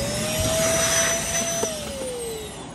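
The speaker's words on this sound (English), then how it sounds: "So vacuum this up some more." A Shark Navigator vacuum cleaner runs steadily nearby, a loud whooshing roar with a high whine that dips slightly in pitch near the end.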